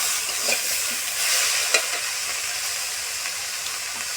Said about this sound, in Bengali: এবার যদি ভালোভাবে সিদ্ধ হয়েছে তাহলে সেটাকে ভালোভাবে নাড়িয়ে চাড়িয়ে নিতে হবে।